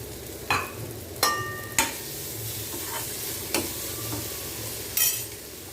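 Potato masala with mint, salt and asafoetida sautés in a pan, giving a steady sizzle. A spoon stirs and knocks against the pan in several sharp metallic clinks, and no one speaks.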